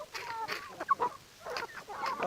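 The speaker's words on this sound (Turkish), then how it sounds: "En büyük ilgimiz tavuklar, horozlar diyorsunuz." Several chickens and roosters in a village cluck and squawk close by in a busy, irregular flurry of short calls, with no one talking.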